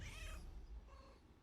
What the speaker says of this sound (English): It's such a ferocious meow.